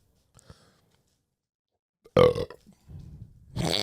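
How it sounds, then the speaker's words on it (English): A single loud, close, throaty burp erupts after near silence, followed by low mumbling and a burst of noisy breath or laughter. "That burp was brought to you"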